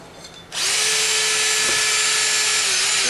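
A cordless drill fitted with a counter borer bit cuts around a nail head in deck boards. It spins up suddenly after a short quiet moment, then holds a loud, steady, close-up whine to the end.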